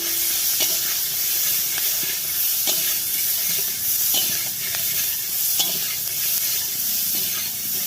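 Potatoes frying in a pan with onion and cardamom give off a continuous loud sizzle and hiss, broken by regular scrapes and knocks of a stirring spoon.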